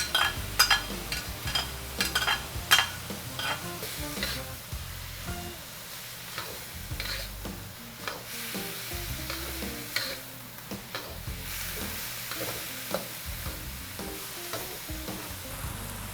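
Pork and onions frying in a wok for zha jiang mian, with steady sizzling and repeated sharp clicks of a spatula stirring and scraping against the pan throughout, close and moderately loud.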